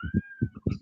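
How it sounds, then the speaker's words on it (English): A pet cat meows several times in quick succession, close and fairly loud, with short nasal calls in an indoor setting and no speech over them. "sorry, that's my cat"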